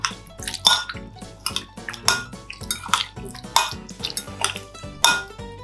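Ginger and onion are mixed in a bowl with a utensil. Brisk, irregular clinks and scrapes repeat every half second or so, close and fairly loud, with no talking.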